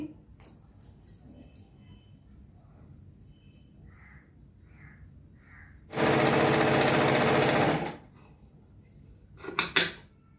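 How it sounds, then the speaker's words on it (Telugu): A sewing machine stitching a piece of a designer dress runs in one loud, steady two-second burst, framed by quieter handling of fabric and small clinks, with no talk. "మరలా దీని వెంటనే ఈ బిట్ కూడా పెట్టేసి కుట్టేస్తున్నానండి"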